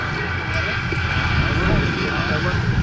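The B-17 bomber Sally B flies a display at the Duxford Battle of Britain airshow, a steady droning rumble of piston engines at middle distance that holds throughout, with possible faint voices underneath.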